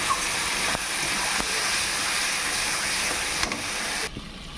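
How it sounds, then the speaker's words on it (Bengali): Spices with turmeric and chili powder fry in a pan with a steady, close, broadband sizzle. It holds evenly for about four seconds, then drops away sharply near the end, with no one talking. "মশলাটাকে কষিয়ে নেব।"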